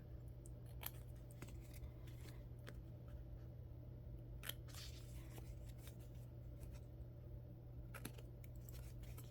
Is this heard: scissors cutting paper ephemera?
yes